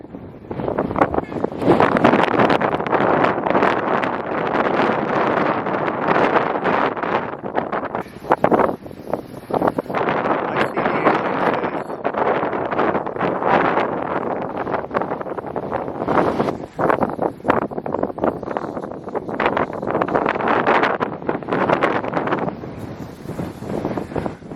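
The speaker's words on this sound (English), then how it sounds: "Still really windy up here and a little bit of spitting rain." Strong gusting wind battering the microphone on a Hawaiian coastal hike, a loud continuous roar that surges and dips for the whole stretch, with a little spitting rain.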